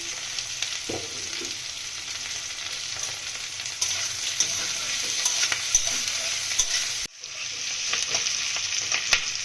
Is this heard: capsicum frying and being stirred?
yes